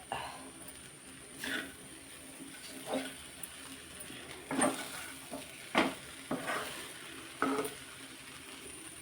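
Poha being stirred with lemon juice in a pan, with a soft continuous scrape and several louder clinks of the spoon against the pan, close and with no talking.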